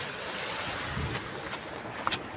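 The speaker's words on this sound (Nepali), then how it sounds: "पानीको कुलो है यस्तो दामी। हेर्नुहोस् पानी यस्तो मजाले हुन्छ।" Water running through an irrigation channel beside farm fields in Nagaland, a steady broadband wash close to the microphone with light wind buffeting and no voices.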